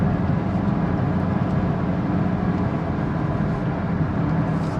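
Steady, loud engine and road drone from inside a 2019 Mazda CX-5 driving in fifth gear, a continuous low rumble with no speech.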